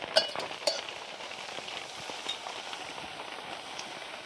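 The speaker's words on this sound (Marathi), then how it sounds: "कांदा चांगला तळला." Onion frying in a pan for a paneer bhaji in a home kitchen, a soft steady sizzle with occasional sharper crackles and pops near the start, fairly quiet throughout.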